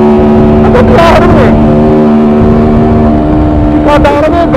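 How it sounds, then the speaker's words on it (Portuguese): A 2008 car engine screams at very high RPM at an underground street car meet in São Paulo, a loud sustained revving drone with sharp rising bursts at the start and end, people talking underneath. "O barulho do motor de 2008 e sempre em extremas rotações"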